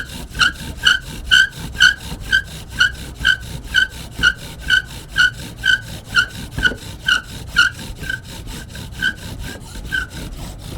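A bow drill spindle rubs back and forth on a wooden fire board to start a friction fire, giving a rhythmic, squeaky grinding with about two strokes per second, close and loud, with no voices.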